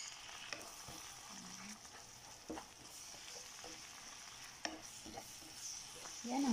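Sloppy joe mixture sizzles steadily in a pan after soy sauce goes in, with a continuous frying hiss and occasional soft scrapes and taps of a stirring spoon, close and fairly quiet.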